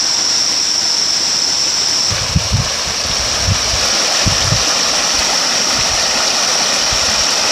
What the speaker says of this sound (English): Also, another nice falls and pool here